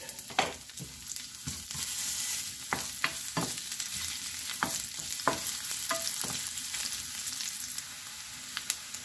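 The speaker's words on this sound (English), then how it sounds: "it's nice and hot, and we'll add our onions" Onions hit a hot pan and sizzle steadily while a utensil stirs them, giving repeated sharp scraping clicks over a constant frying hiss, nearby and alone without talk.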